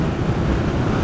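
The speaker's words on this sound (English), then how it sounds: "it's really windy" Strong wind buffeting the microphone in a steady, loud roar of low rumble and hiss, with no voices.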